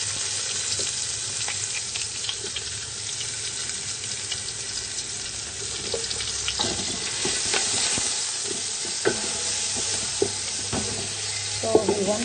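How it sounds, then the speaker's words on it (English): Chopped onion sizzling steadily in hot oil in a pan for mutton dhalca, a bright continuous frying hiss with occasional scrapes and stirring knocks, close and without talk. "The onion can go in now."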